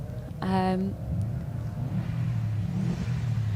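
A rally car sits on the start line of a stage, its engine rumbling low and steady, with a short loud rev in the first second and faint background murmur behind.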